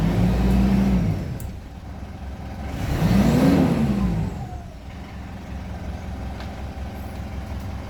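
A Mitsubishi Montero Sport with an EGR fault code is driven on a road test, its engine humming steadily and rising in two revving surges before settling to a cruising drone, heard from inside with no talk.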